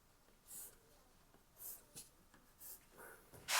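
Faint, short scratchy strokes of a pencil marking wood, several quick marks spaced out against quiet background.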